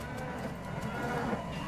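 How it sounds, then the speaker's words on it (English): Ominous cow mooing rises from a hell portal in the West of Loathing video game, a dense, continuous lowing that holds steady and loud for the whole short stretch. "Ominous mooing."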